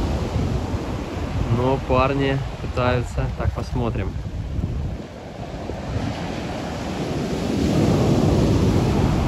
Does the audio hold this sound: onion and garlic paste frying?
no